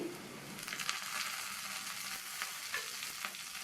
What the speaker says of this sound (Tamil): இந்த பூண்டை வதக்கி விட்டுட்டு அடுத்து கறிவேப்பிலை